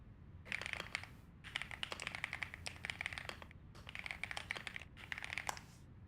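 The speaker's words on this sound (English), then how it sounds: "Nice keyboard sounds." Rapid typing on a computer keyboard comes in four bursts of quick, clicky keystrokes separated by short pauses, recorded close and fairly quiet with no talking.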